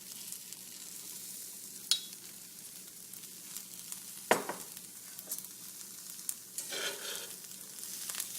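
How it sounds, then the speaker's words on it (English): Potatoes and onions fry in a skillet with a steady, quiet sizzle, broken by a few sharp scrapes and clinks as they are moved around the pan. No talking. "So I am going to move these around in the skillet."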